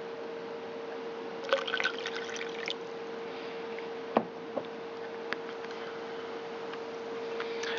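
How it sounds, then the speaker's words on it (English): Gold recovery liquid from computer parts drains through a filter, giving a few sparse, faint drips and small taps over a steady low background hum, with no voices. "It does take a little bit of time to drain down into it, and we're probably going to have to use more than one filter"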